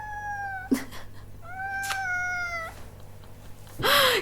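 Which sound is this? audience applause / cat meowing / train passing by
cat meowing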